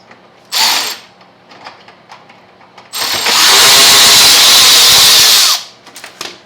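A power tool backs a screw out of the side fairing of a Lifan KPR 200 motorcycle: a short burst, then a louder sustained whirring run of about three seconds, with faint clicks between.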